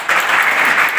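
Loud audience applause at a Narayan Sena gathering in Mainpuri, a dense wash of many hands clapping steadily and evenly for the whole second, close and full, with no talk over it.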